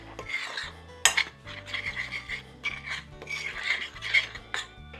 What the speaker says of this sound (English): let me just go ahead and mix that together